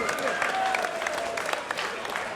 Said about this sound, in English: a big round of applause for both of these outstanding professional heavyweights